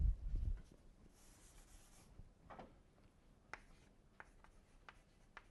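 Chalk or marker writing out an equation on a lecture board, heard as faint scattered scratches and short strokes with quiet pauses between them, no talking.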